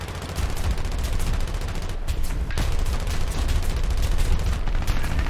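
Rear turret machine guns on a BV-138 flying boat in War Thunder fire without a break. The rapid, loud rattle fills the whole stretch, with no pauses and no voices.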